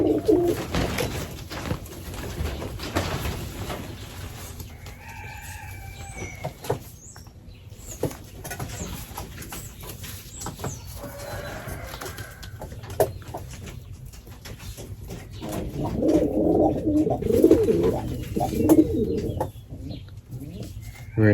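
Racing pigeons coo softly in low, rolling calls amid rustling and scattered flutters, with a louder burst of cooing and movement near the end.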